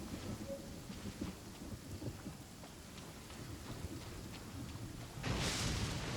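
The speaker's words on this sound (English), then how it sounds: "compared to the storms I've encountered out at sea, this is really quite tame." Steady rain falls through a thunderstorm with low rumbling thunder, continuous and fairly loud, swelling into a heavier burst near the end, with no voices.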